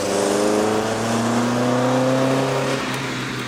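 A VW Mk2 Golf with a swapped ABF engine running on carburettors pulls away, its engine note climbing steadily in a loud, close, rising drone before easing off near the end.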